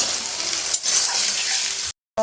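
Onion frying in a pan for chicken kosha, with ginger and green chilli paste set aside, giving a close, steady hiss of sizzling oil and a brief stirring scrape, no voices.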